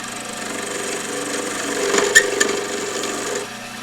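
A skew chisel cuts a wooden pen blank spinning on a lathe, giving a steady close scraping and rasping hiss. It swells briefly near the middle of the cut and then eases off.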